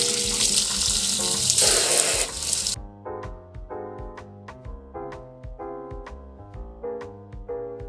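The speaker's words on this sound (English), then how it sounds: "I got a little bit of blue soap on the top of these, so I'm going to have to wash them off." Running tap water rinsing blue soap off soap snowflakes, a loud hissing stream for about three seconds that then stops, followed by quieter clinks and handling sounds.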